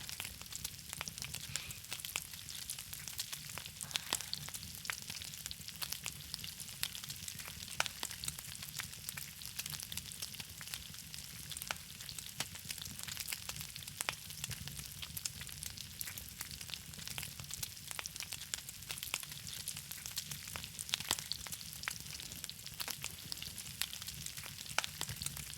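Steaks sizzling in a pan in the video game Hell Rider, a steady crackling sizzle that holds level for the whole stretch, with no talk.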